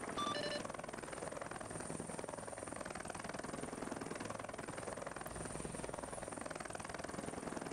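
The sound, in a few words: CH-53 helicopter flying in video game ArmA 3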